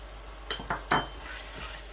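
Minced keema being stirred in a pan with salt and red chili: a few soft scraping strokes and light clinks of a spoon against the pan over a low, steady sizzle, fairly quiet and close.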